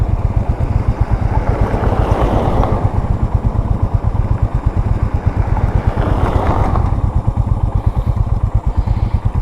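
A motorcycle with no luggage rides along a dusty road, its engine thumping in a loud, steady rhythm up close, with two brief swells of wind rush along the way.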